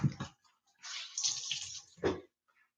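Hot water rushes from a tap into a bath or sink in a steady splashing stream of about a second, framed by short bursts of handling noise, fairly close and faint.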